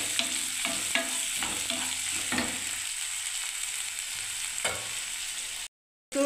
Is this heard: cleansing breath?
no